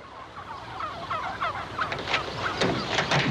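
Several turkeys gobble in quick, overlapping bursts, growing louder and busier toward the end, close by with no talking.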